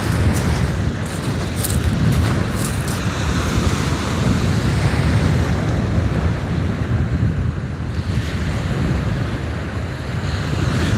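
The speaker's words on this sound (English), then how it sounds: "Wind's sort of getting a little less now, so it's a bit more manageable to cast." Wind and breaking waves fill the air from a kayak at sea while fishing. The roar is steady and broadband, and gusts buffet the microphone throughout, with no voices.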